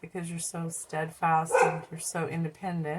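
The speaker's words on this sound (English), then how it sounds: "That's my dog barking." A dog barks repeatedly in short rhythmic bursts close by indoors, overlapping a person talking steadily.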